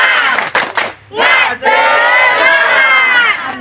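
A group of students at a ranking quiz session does a spirited clap-and-cheer routine, loud rhythmic claps followed by a sustained collective shout close by.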